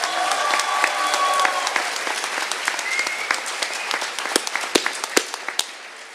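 Graduation audience applauding after speeches: a dense crowd of clapping that gradually thins into scattered individual claps, fairly close, with a few voices mixed in.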